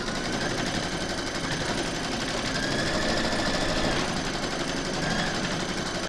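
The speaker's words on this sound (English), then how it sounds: "Load your file into your machine, and then you're going to stitch round number 1" An embroidery machine stitches a fabric placement outline for a koala cuddly toy, giving a steady, continuous mechanical whir with fast rhythmic needle pulses, close and even throughout with no talk.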